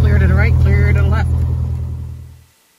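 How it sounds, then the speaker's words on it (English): Small propeller airplane engine idling with a steady low drone while taxiing at Delaware Coastal airport, a voice talking over it before the engine winds down and cuts off near the end. "as soon as he gets the prop turning. And we're going to go ahead and taxi out"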